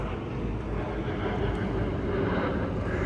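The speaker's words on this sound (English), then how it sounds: "You can hear that aeroplane overhead." Steady broadband engine rumble of an aeroplane passing overhead, heard from aboard a cruising yacht, fairly distant, with a constant low roar and faint wind noise throughout.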